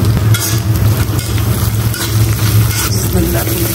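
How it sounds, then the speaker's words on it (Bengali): Malabar spinach frying in a pan with onion, garlic and green chili, a loud, continuous sizzle with stirring scrapes close by, alone without talk. "এই চুলায় আমি পুঁই শাক ভাজি করবো"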